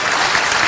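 Loud, steady applause from an audience at a Buddhist dharma discourse in Mumbai, dense and continuous clapping filling the short moment without voices.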